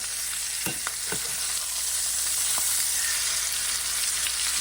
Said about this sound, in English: I'm just going to flip my chops